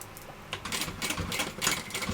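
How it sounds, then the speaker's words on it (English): A sewing machine stitches down the top of a Verona tote bag in short bursts of rapid mechanical chatter, starting and pausing over about two seconds, fairly quiet and without speech. "I'm going to start stitching down at the top"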